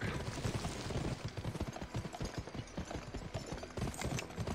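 Horse hooves pound in rapid rhythmic clip-clop while riding in the Western game GUN, close and steady under a busy mix of ambient game noise.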